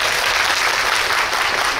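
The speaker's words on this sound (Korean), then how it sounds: "일단 두 분에게 박수 좀 부탁드리고요" An audience at a Coex film talk event for Revolver applauds steadily, a dense, continuous wash of many hands clapping that holds evenly throughout.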